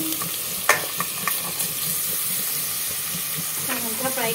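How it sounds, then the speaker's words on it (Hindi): Mutton fries with garam masala and garlic ginger paste, a steady moderate sizzle overlaid with several sharp stirring scrapes and clacks from a spoon against the pot, with brief voice sounds near the end. "हल्का सा हम इसको फ्राई करेंगे गोल्डन"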